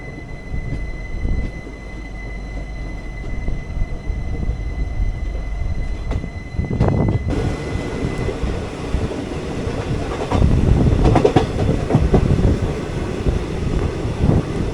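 The 12134 Mangalore-Mumbai CSMT Superfast Express runs on steadily, heard from inside an AC 2-Tier coach: a continuous low rumble with rhythmic clickety-clack of wheels over rail joints, growing louder and busier partway through, with some wind noise.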